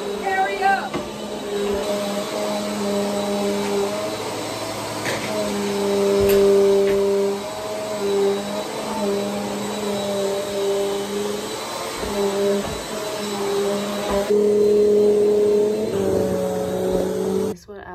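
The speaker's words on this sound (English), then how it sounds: "I got the vac cleaner in here in the room" A vacuum cleaner drones steadily nearby in a room, its pitch rising and falling as it moves, with a voice speaking intermittently over it.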